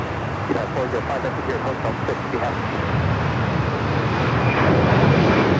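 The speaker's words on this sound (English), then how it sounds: "Latam 767 at 300ER now rolling down at 25 right" A LATAM Boeing 767-300ER accelerates down runway 25R at LAX, its engine roar building gradually beneath ongoing chatter, with traffic noise in the background and the thrust growing louder toward the end.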